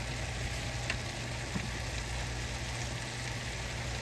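Pork medallions in maple glaze sauce sizzling in a pan, a steady close frying hiss with faint stirring and bubbling, no voices.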